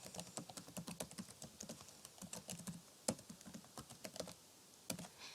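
A computer keyboard is used to enter a password and email address in quick, irregular bursts of light keystrokes, close and clear, with short pauses between strings of taps.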